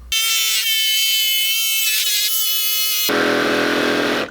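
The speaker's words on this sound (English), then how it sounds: "we're going to use a jigsaw to cut that out." A jigsaw cutting a 2x4 board buzzes loud and close, a sustained high, tonal whine that keeps running and shifts to a rougher, grittier rasp near the end, with no talking.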